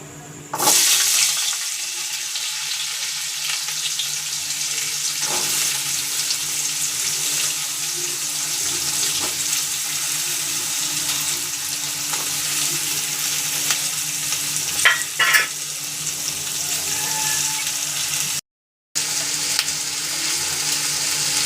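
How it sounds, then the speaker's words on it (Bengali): Chopped potatoes and beans fry in a pan over cumin seeds at home, sending up a loud, continuous sizzle with a few brief stirring clatters and one short dropout. "এবার এখানে আমি কেটে রাখা আলু আর বিনস দিয়ে দেব।"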